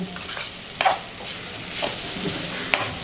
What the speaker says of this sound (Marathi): छान परतून घ्यायची चांगल्या प्रकारे एकदम मिक्स करून घ्यायची